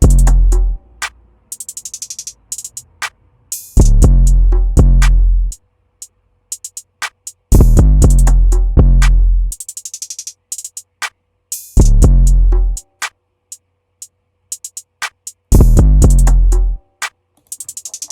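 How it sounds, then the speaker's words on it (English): An 808 bass pattern from an FL Studio beat, boosted to hit harder, booming deep notes in repeating phrases with crisp percussion ticks between, loud and alone with gaps of near silence. "And the 808 pattern sounds like this."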